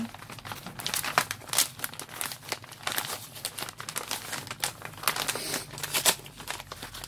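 A paper envelope is torn open and crinkled by hand, close-up bursts of tearing and rustling paper in quick irregular handfuls.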